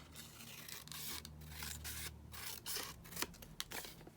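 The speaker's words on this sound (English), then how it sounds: "let's cut it with the scissors rather than try and tear it" Scissors cut through a sheet of print overspill paper in a run of close, soft, crisp snips and rustles over a few seconds, with no one talking.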